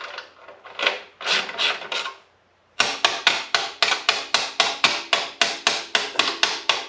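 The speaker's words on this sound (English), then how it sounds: "these spanners, double up as hammers" A spanner used as a hammer knocks on the exhaust bracket of a 2023 BMW R1250 GS Rallye motorcycle: a few scraping, grinding strokes, a brief pause, then about a dozen sharp, evenly spaced metallic blows up close.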